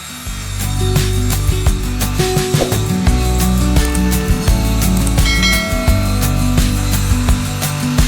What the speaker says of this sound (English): Cut one top board measuring 40 by 20 centimeters.